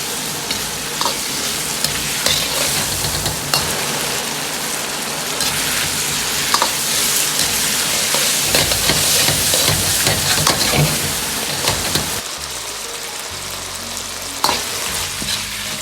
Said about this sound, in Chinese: 把鸡肉炒至表面焦黄，辣椒呈枣红色，接着倒入兑好的酱汁，保持中小火炒出酱香味。